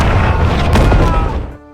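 Loud booming explosions from bombers in a film scene, a dense rumbling roar with crashing debris that swells and then cuts off abruptly.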